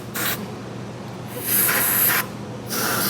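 Three bursts of penetrating spray hiss in short, close squirts into an engine opening on a 1953 Plymouth flathead six, each lasting under a second with brief gaps between, no talking.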